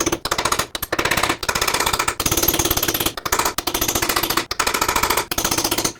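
An air hammer with a chisel bit pounds at a front lower ball joint on a 2001–2007 Volvo V70, loud rapid metallic hammering in repeated bursts separated by brief pauses.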